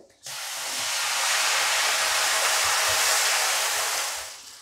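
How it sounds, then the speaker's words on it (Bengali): A loud, steady sizzle bursts out as water is poured into a hot pan of roasted semolina for upma, hissing continuously for several seconds, then fades slightly at the end. "এবার আমি জল দিয়ে দেবো মাপ করে"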